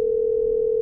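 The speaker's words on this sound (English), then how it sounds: "Okay. I'm dialing." Steady, unbroken telephone dial tone from the video game Killer Frequency, a single clean pitch held at even loudness for under a second with nothing else heard.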